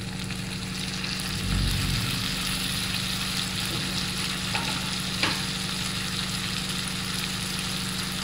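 Tomatoes go into a pan of frying mutton keema gravy with onions. A steady sizzle and scraping stir keep going under a low constant hum, with a few louder clatters of the spoon.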